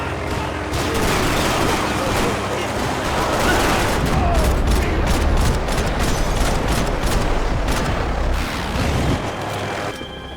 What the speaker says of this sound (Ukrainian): снайперська гвинтівка